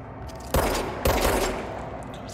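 Service Weapon gunfire in the video game Control: two sharp loud bursts about half a second apart over a steady hiss of background noise.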